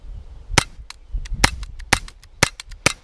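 Glock pistol fired outdoors in spring, several sharp, loud shots in an uneven sequence with short gaps between them, no talking.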